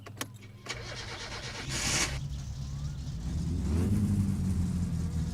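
Car engine in My Summer Car cranking and firing up after a few clicks, then settling into a low, rumbling idle that grows slightly louder, close and clear with no talking.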